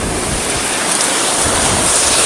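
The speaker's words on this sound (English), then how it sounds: "there is the waterfall" A waterfall at Buzzard Swamp in Allegheny National Forest, Pennsylvania, in winter gives a loud, steady broadband rush of falling water that fills the air without a break.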